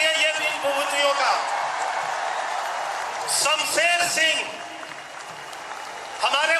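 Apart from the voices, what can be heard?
audience applause welcoming Olympic athletes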